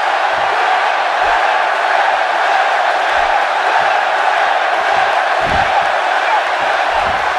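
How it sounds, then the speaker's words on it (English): An arena crowd in the WWE 2K18 wrestling game roars in a steady, dense wash of cheering during an NXT TakeOver handicap match, loud and unbroken, with a few faint thuds beneath. "Listen to this crowd."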